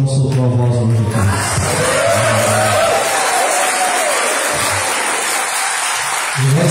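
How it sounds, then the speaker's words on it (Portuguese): A church congregation at a Sunday service breaks into loud, sustained applause, dense clapping that runs the full length with a few cheers and a voice rising over it early on. "Um aplauso porque o João soltou a voz hoje aqui."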